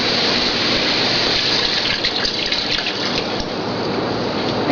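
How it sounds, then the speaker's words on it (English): Water pours steadily into a Dutch oven for jambalaya, a continuous broadband splashing gush that stays close and fairly loud for the whole stretch with no voices over it. "So what we're going to do is add 5 cups of water."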